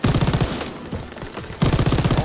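Machine gun fire in the World War II shooter Call of Duty WW2: loud, rapid automatic bursts, a short pause of scattered shots, then another sustained burst close by.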